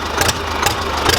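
A SAME Saturno 80 farm tractor engine runs at a steady idle, its loud, even mechanical rumble carrying periodic heavier pulses with no talking.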